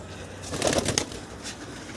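A homing pigeon makes a short burst of bird noise and fluttering that peaks for about a second and then fades into a steady outdoor background hiss.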